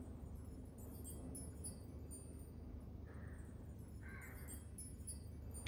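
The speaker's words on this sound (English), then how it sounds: "I can hear a crow, and it's like way beyond midnight." Late at night outdoors, a crow gives two short, faint caws about a second apart over a low, constant background hum.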